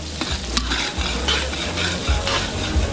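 Pork belly fries with garlic and onion in cooking oil, a steady close sizzle with stirring and occasional scraping throughout, no voices.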